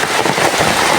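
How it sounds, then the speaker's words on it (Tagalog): Heavy rain pours down steadily in a dense, continuous hiss that stays loud and unbroken throughout, with no voices. "Mauran po digdi."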